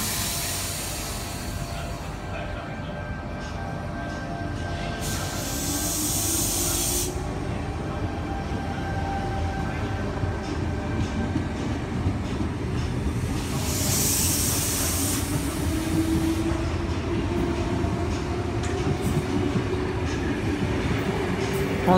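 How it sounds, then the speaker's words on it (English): A Sydney Trains southbound service pulls out of platform 4 at Wolli Creek station with a continuous low rumble and rolling wheel noise. Two loud bursts of air hiss break through, and the sound swells gradually as the train moves off. "We have a southbound service departing platform 4."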